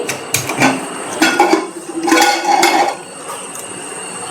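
Clinks and scrapes of a metal lid and pot as a pot of cooked tandoori chicken is opened on a turned-off gas stove, a few short sharp knocks close by with no talking.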